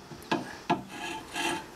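Woodturning bowl gouge pressed against a grinding wheel, two short rasping contacts followed by a longer grinding pass, close and fairly quiet with no speech.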